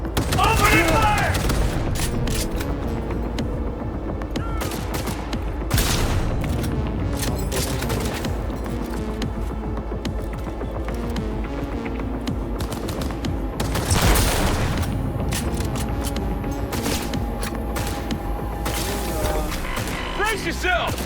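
Cyberpunk 2077 combat erupts in sustained automatic gunfire and heavy blasts, loud and near, with rapid bursts layered under voices calling out in the fight.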